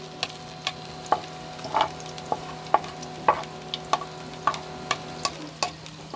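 Chopped garlic frying in oil in a pan, a steady soft sizzle punctuated by regular sharp clicks and taps of a spatula stirring against the metal, close and moderately loud with no talking.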